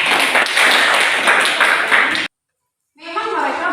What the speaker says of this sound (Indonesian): Oke, tepuk tangan Bella.